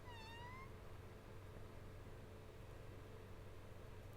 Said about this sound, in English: kitty. It's a cat.